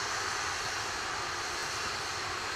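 An Atlas V rocket's engines roar during launch as it climbs past Mach 1, a steady, dense, distant rumble and hiss filling the air with no breaks.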